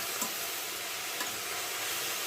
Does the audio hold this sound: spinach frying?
yes